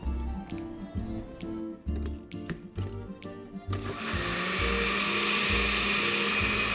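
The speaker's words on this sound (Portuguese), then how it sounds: "Agora é só tampar o liquidificador e botar ele para funcionar." A blender starts up after some clunking and pulsing, then runs in a loud, continuous whirring grind, mixing ingredients for a tuna pie batter.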